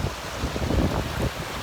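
Forceful stream water rushing downhill in Silton Forest: a steady, broadband roar of churning flow, loud and close, with no voices.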